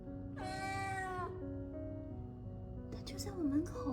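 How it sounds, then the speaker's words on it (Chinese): A kitten stands at a fifth-floor apartment door and gives one loud, drawn-out meow close by. A brief human voice follows, with faint indoor background hum. "门口有一只小猫"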